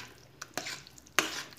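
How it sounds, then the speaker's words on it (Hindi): Pav bhaji being stirred in a pan after half a glass of water is added, giving a few soft, separate scraping and sloshing strokes, close and quiet, with no talking. "और इसको अच्छे से मिक्स कर लेंगे।"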